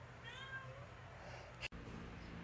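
Cat meowing indoors, a short rising-falling meow early on followed by a brief sharp knock, faint and close with a quiet room background.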